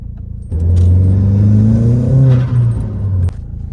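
A VW Mk4 1.8T fitted with a K04-XLB turbo accelerates hard from the driver's seat, the engine note rising loudly for about three seconds before a sharp lift-off, with cabin rumble around it.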